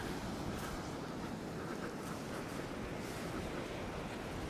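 Sea waves washing onto an eroding shoreline, a soft, steady broadband rush of surf with faint wind noise throughout.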